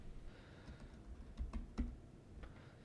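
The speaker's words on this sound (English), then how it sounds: "So I'll go and type on my signature." Keystrokes on a computer keyboard while entering an email signature: a few scattered clicks, then a quick cluster of taps near the middle, fairly close and quiet, with no talking.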